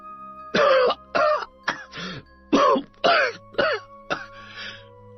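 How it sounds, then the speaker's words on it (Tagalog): A man coughs in a series of about eight harsh, throaty bursts spaced roughly half a second apart, close and loud against a quiet steady background. "Nadatnan niya ang kanyang ama na noon ay inuubo"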